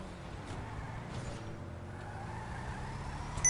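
A Benefactor Nightmare Bruiser Arena War car drives in GTA with a low, steady engine drone, quiet and continuous, with brief faint swishes and no voices.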